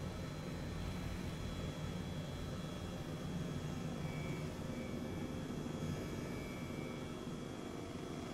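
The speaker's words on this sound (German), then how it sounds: "Gehen in einen leichten Rechtsturn, fliegen dann einmal über den Spot von Fritz drüber" Steady broadband drone of a small sightseeing plane's engine, continuous and fairly loud throughout, with no voices.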